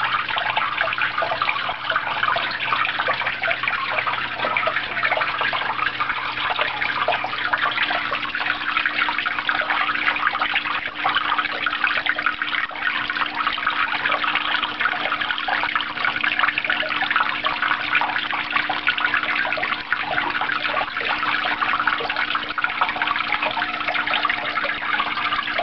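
Water trickling continuously down a small bamboo-fed waterfall inside a rainforest reptile enclosure, a close, steady splashing babble with no talking.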